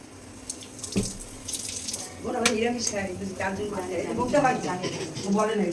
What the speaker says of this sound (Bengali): তত সময় মাছটা আমি ধুয়ে নিই